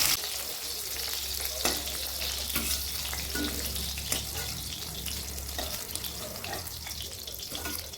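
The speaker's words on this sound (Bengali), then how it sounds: "মাছ ভাজার ফাঁকে ফাঁকে আমি একটু শাকটাও ভেজে নিচ্ছিলাম" Fish pieces and pea greens fry in a pan with a dense, steady sizzle, joined by occasional clinks and a watery splashing layer throughout.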